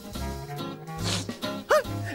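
A cartoon dog, Pluto in a Mickey Mouse cartoon, lets out one short, loud bark near the end, after a stretch of animated character voices talking.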